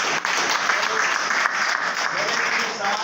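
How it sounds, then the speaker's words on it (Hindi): Audience applause right after a call to cheer for a guest at a motivational training event, a steady dense burst of clapping lasting the full few seconds, close and loud with voices mixed in. "एक बार उनके लिए जोरदार ताली बजाएं"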